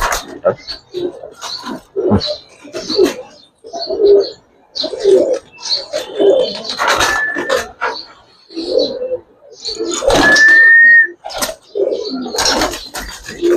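Giribaz coloured highflyer pigeons coo in short, repeated throaty bursts close by, with bits of nearby chatter and other calls between them.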